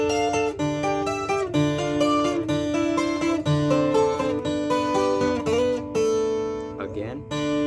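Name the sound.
acoustic guitar playing a song intro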